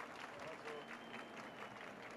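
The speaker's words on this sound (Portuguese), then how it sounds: "Uma salva de palmas." Applause from an audience at a technology conference talk on cooperative pedagogy in Rio, steady continuous clapping at moderate level throughout, with a faint crowd murmur underneath.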